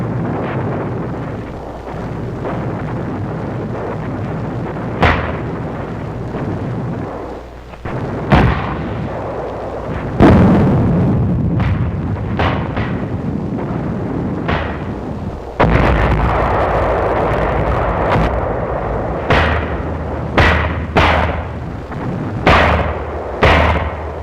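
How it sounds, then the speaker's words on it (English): Mortar and 155 mm artillery fire in a 1945 battle on Angaur: a steady barrage of sharp, booming blasts at irregular intervals over a continuous low rumble, loud and close, with no voices. "We called back for mortars and 155s."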